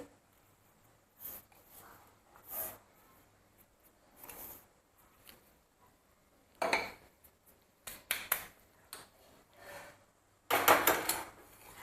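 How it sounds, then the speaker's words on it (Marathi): A utensil scrapes and knocks in a pan while ground sugar is stirred into hot roasted semolina for laddoos, in irregular bursts of scraping separated by near silence, close and moderately loud. "तर ही साखर आहे ती आपण गरम रव्यामध्ये मिक्स करून घेऊया"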